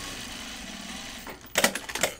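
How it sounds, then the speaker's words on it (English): A sewing machine stitches the side seam of a bucket bag from the inside, a low steady motor hum, then a short burst of rapid rattling stitches near the end. "I like to just flip it over and sew the side from the inside"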